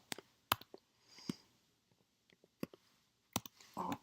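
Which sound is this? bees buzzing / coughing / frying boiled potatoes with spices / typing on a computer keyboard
typing on a computer keyboard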